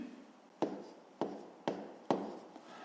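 Pen or pencil writing numbers on paper while working a fifth-grade math exercise, four sharp tapping strokes followed by short scratchy trails, close and quiet.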